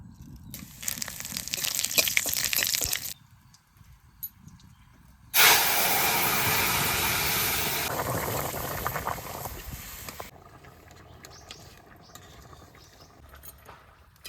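Cumin seeds and bay leaves hit hot oil with a sharp hiss, then a second louder burst of sizzling that settles into a steady crackle and fades, with quiet gaps between.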